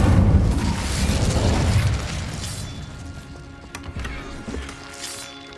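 A fire spell, Incendio, is cast in Hogwarts Legacy: a loud fiery burst and whoosh that fades over a few seconds, with scattered clinks and crackles trailing off.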